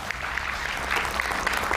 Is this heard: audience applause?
yes